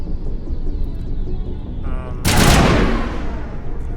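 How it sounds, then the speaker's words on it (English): Assault rifle fire in Mass Effect Legendary Edition, a loud sudden burst of rapid gunfire after a stretch of low hum and game ambience. "Oh, that is the assault rifle."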